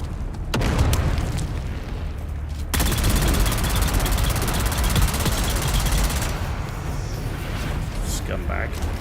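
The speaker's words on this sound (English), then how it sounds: "I got a grenade too." A grenade blast in Dune Awakening, a sudden loud burst that swells into a dense roaring rumble and sustained crackling noise before easing, close and powerful with combat noise around it.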